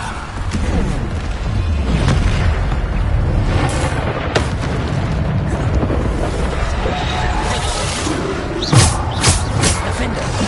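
Bombarda spell explosions from Hogwarts Legacy thud and boom repeatedly amid dense, loud game combat noise, with a voice speaking throughout.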